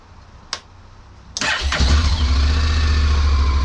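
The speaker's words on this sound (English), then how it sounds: "The bike has to start for these to work." A Honda NC motorcycle starts up nearby: a click, a brief starter whir, then the engine catches and settles into a loud, steady idle.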